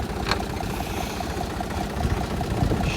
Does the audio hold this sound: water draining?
no